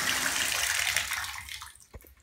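Soapy water from soaking a microfiber mouse pad drains out of a basin with a loud rushing gurgle that fades over about two seconds, ending in a soft clunk.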